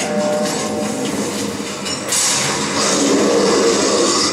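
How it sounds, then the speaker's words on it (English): A train pulls into a station in the sci-fi horror game Dead Space 3, a steady broadband rumble and rush that swells louder about halfway through, with no one speaking over it. "Train's here."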